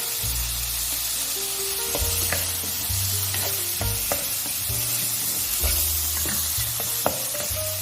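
Onion, tomato, green chili and garlic sauté in a pan with a close, steady sizzle and occasional scraping stirs, no voices over it.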